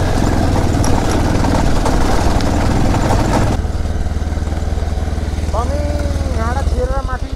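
A new motorbike's engine runs loud and steady, then drops to a lower, quieter idle. People talk over it for the second half.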